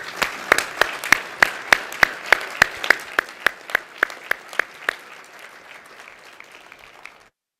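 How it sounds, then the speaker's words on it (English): Conference attendees at a golf course superintendents' tradeshow applaud a panel, with a few sharp, evenly spaced claps standing out over softer group clapping that gradually dies away before the end. "And let's give this panel a round of applause."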